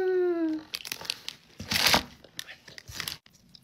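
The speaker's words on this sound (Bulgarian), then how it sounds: "Колко секунди ще дъвчиш и дишаш?" Crinkly wrapper tearing and crunchy chewing of Dubai-style chocolate, a run of close, irregular crackling bursts with one louder crunch in the middle, after a brief rising vocal sound at the start.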